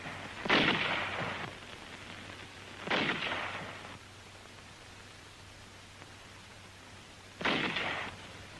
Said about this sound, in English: the highly mobile 75mm pack howitzers delivered continuous fire to the north